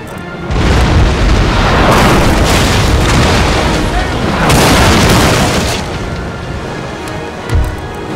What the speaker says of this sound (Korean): 오른쪽 포신 뭐하냐? 쏴라! 일반탄 교체 그냥 침몰시켜버려.